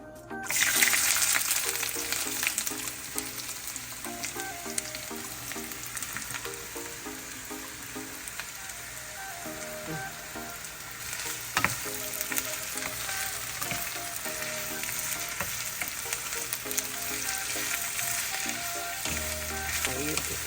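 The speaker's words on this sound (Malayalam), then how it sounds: "നമ്മൾ ഇഞ്ചി വറക്കാനുള്ള എണ്ണ ഒഴിച്ച് നമ്മൾ എണ്ണയ്ക്കകത്തോട്ട് ഇടാൻ പോവുകയാണ്" Ginger frying in oil for a Kerala style ginger curry: a constant, close hiss and crackle of bubbling oil with faint stirring scrapes, steady and loud for the whole stretch.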